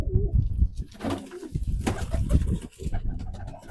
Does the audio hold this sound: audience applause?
no